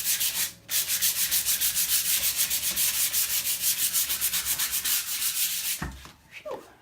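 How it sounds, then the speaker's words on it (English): Sandpaper rubbing wax off a painting in quick, steady back-and-forth strokes, close and loud, pausing briefly near the start and stopping near the end. "that's the wax coming off on the sandpaper"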